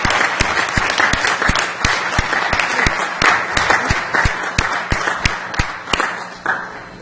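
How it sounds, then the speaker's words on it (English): An audience applauds warmly and steadily for a honored woman at a community gathering, dense clapping with a few sharp louder claps standing out, tapering slightly near the end. "So let's give her a warm hand clap."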